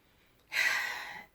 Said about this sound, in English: We breathe in and out.